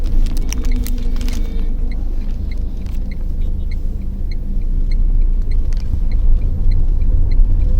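A 2022 Tata Tigor CNG car driving in petrol mode, a steady low engine and road rumble heard from inside the cabin, loud and continuous, with faint ticking and no talking.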